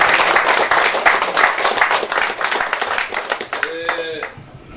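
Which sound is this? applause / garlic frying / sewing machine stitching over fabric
applause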